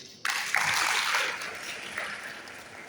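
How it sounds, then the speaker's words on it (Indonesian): Audience applause breaks out at a talk show opening for LPDP scholarships, a sudden burst of clapping that swells quickly, holds steady and slowly tapers off. "Aplaus dulu."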